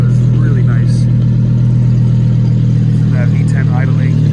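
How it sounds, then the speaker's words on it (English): An Audi R8's V10 engine idles steadily and loudly nearby, a deep constant drone, with a voice talking faintly over it. "And that V10 idling."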